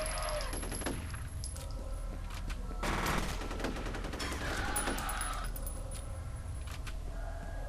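Rapid automatic gunfire in the horror shooter video game F.E.A.R. comes in dense, loud bursts of shots over a constant game soundscape.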